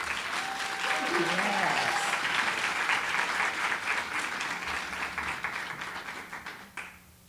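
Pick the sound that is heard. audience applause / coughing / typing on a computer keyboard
audience applause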